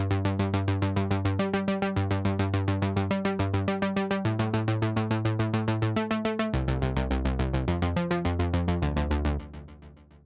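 A Nifonium synth bass pulses through a steady one-note arpeggiated pattern, rapid even repeats shifting pitch every bar or so, loud and alone before cutting off near the end.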